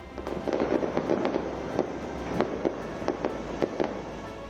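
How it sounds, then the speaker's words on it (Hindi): Diwali fireworks and firecrackers go off across Delhi in a dense, continuous crackle of sharp pops and bangs over a steady rumbling background, with no talk. "दिल्ली के हर कोने में आतिशबाजी हुई"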